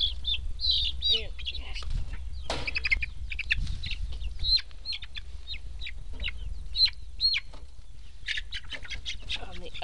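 Five-week-old Rhode Island Red chicks with straight combs peep and chirp continuously in high, busy bursts, close by, over a steady low rumble.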